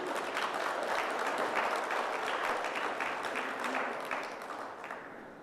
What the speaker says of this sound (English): Round of applause again for the young lady.